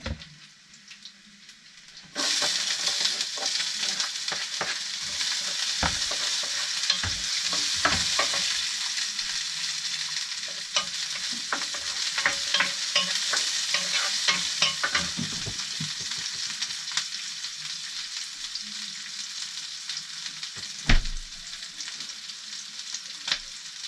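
Onions sizzle loudly in a frying pan, a steady hissing fry that starts abruptly and continues throughout, broken by scraping stirs of a spatula.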